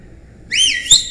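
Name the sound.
whistle blown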